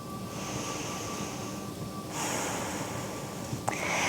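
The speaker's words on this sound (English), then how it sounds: "breathing in and out through your nose" Steady nasal breathing during a seated yoga pose for pelvic floor strength, with a long drawn-in breath giving way to a stronger exhale, close and soft against a constant airy hiss.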